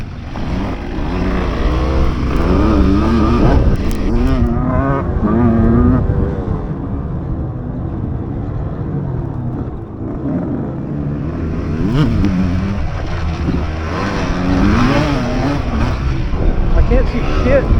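A Yamaha DT200R and a Suzuki RM125 vintage enduro motorcycle ride hard on a dirt race course, their two-stroke engines revving and surging continuously up close, including through a wheelie.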